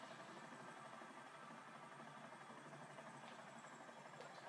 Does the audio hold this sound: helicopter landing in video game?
yes